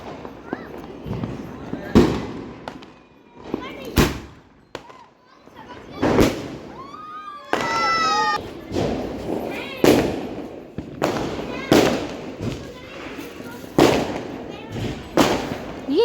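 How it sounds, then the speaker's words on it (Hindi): Firecrackers bursting during a family Diwali celebration, sharp loud bangs every couple of seconds, some near and some farther, with whistling crackle, a cat meowing and people talking between blasts. "सो पटाखे तो इन लोगों ने बहुत सारे फोड़े थे"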